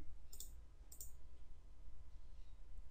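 Two sharp, crisp mouse clicks about half a second apart over a faint low hum, then quiet.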